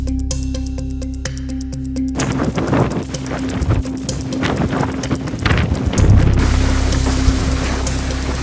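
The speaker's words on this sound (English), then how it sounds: "It's real windy." Strong wind gusts roar and buffet against the microphone in a loud, uneven rush, building heavier toward the end after a short stretch of rhythmic electronic tones at the start.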